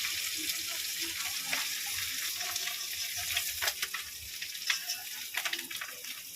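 Fish roe fries whole in hot oil in a home kitchen, a steady close sizzle and crackle with a few sharper spatters and stirring noises throughout.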